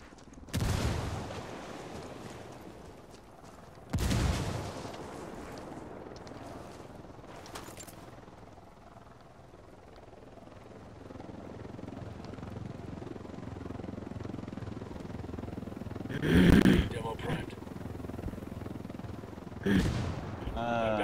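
Ghost Recon Wildlands firefight: a frag grenade and a demolition charge go off as loud booming blasts, with gunfire scattered between and a big close explosion near the end, players talking at moments.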